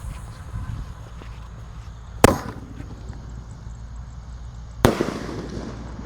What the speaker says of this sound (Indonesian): Ini meledosnya di bawah dan di atas. Kita lihat kalau di atasnya itu seperti Roman Candle.